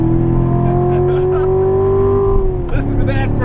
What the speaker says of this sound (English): And you can tell how in track mode it switches the exhaust notes, right?